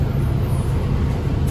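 Low, steady road rumble of traffic heard from inside a TTC bus stuck in heavy congestion on Eglinton in Toronto, a continuous broadband drone with no clear breaks.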